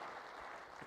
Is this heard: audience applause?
yes